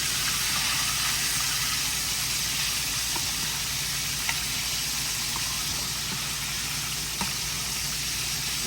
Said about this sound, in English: Okay, we'll let those fry on up for about 5 more minutes